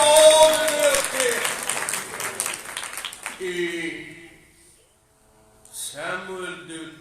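A church congregation at a Sunday village service claps together in a loud burst of applause that fades out after a few seconds, followed by someone speaking alone.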